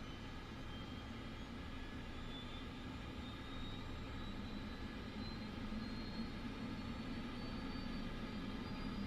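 Tail-dragger propeller plane engine in Microsoft Flight Simulator 2024, a steady droning roar with a low rumble and a faint rising whine, loud and continuous throughout with no talking.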